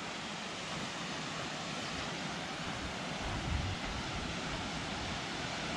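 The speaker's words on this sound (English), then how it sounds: "I can hear the waterfall." A waterfall roughly 40 feet high near June Lake on the Mount St Helens trail gives a steady, even broadband rush, heard from a distance without a break and with no voices.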